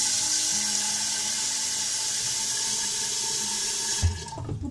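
Water runs steadily into a jar holding a few spoonfuls of salt to make brine for debittering green olives, a continuous close pouring rush that stops abruptly near the end with a few small knocks.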